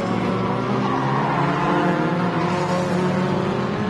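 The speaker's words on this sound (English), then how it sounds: "They use the handbrake to rotate the car through the right-hander." A two-wheel-drive rallycross race car rotating through a tight dirt hairpin with the handbrake, its engine roaring loudly and steadily with skidding tyre noise, sustained throughout the stretch.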